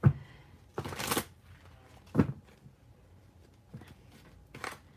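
Tarot cards being shuffled by hand, several separate bursts of riffling and flapping with pauses between, close and fairly loud.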